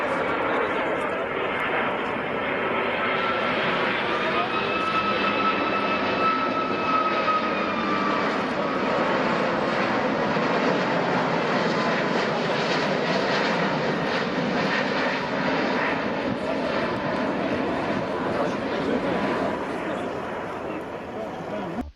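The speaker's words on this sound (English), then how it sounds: "Look at this Beluga XL pass at RIAT 2022." Airbus Beluga XL aircraft making a pass at the RIAT 2022 air show, a loud continuous engine roar and rumble sustained throughout, with crowd noise underneath.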